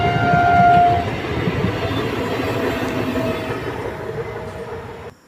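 A train pulls into Sirajnagar station beside a lychee orchard, a short horn blast at the start over loud rumbling and wheel clatter that gradually eases, with no voices.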